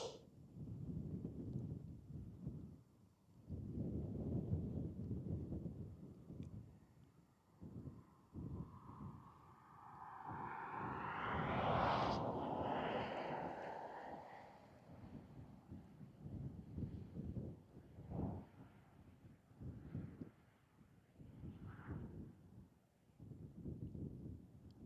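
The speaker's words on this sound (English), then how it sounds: "It might be a bit windy up there." Wind at drone altitude over the Snæfellsnes Peninsula in Iceland buffets steadily in low, rumbling gusts that rise and fall throughout, with no voices.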